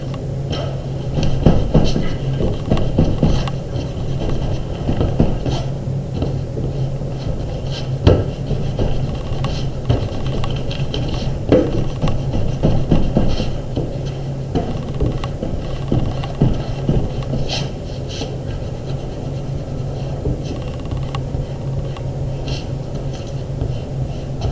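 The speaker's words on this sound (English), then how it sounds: "And now I can clean it all up with my eraser." An eraser rubs across paper to clean up a hand-drawn panda wearing a Santa hat, giving a steady close scratchy scrubbing with repeated short strokes and brief pauses over about 25 seconds, no talking.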